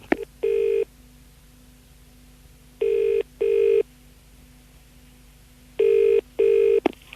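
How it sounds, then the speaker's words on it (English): A telephone ringback tone sounds on an outgoing call, with three pairs of short, even double rings separated by long pauses over a faint line hum. "Let's phone him up, yeah."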